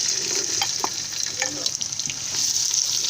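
Chopped onions sizzle in hot palm oil in a non-stick pot on the fire, a loud continuous frying hiss with occasional spatter and stirring scrapes close by.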